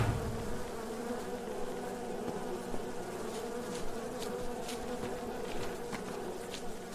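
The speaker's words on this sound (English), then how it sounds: "Oh, not the bees!" Bees buzz in the video game The Road to Hollow Hills, a constant droning swarm hum close by that fills the scene evenly, with faint clicks scattered through it.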